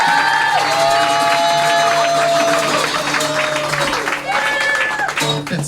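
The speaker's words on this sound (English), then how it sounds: "And keep clapping your hands for Reagan and Watkins," A comedy show crowd claps and cheers loudly and continuously, with a sustained wash of applause under sliding saxophone-like musical tones, no talk.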